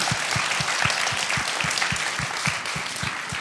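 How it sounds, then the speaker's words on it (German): An audience at a contemporary theatre talk applauds the two interpreters. The clapping is steady and full, with a rhythmic beat, and no one speaks over it. "Einen herzlichen Applaus für die beiden Übersetzerinnen."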